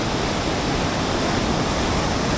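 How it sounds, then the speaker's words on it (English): Water rushing underneath ice in a winter setting, a constant loud broadband roar like a fast stream, steady and close with no pauses or voices. "I don't know if you can see how the water's rushing underneath the ice."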